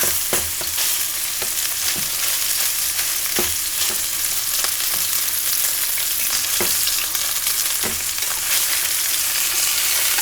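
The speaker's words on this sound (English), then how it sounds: "I'm going to sear the edge of it, that fat cap." A sous vide ribeye's fat cap sears in a hot pan, giving a steady, loud, close sizzle with occasional sharper pops and spits throughout, and no voices.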